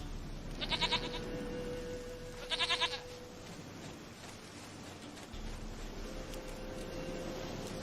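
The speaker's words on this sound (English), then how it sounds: "Goat of mine, dearest, sweetest goat." Two short, quavering goat bleats in The Witcher 3, close and distinct, sounding over a steady hiss of in-game ambience with faint tonal hums and no talking.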